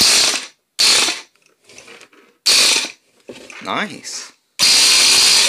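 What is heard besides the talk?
Ryobi cordless power tool running, sounding like an impact gun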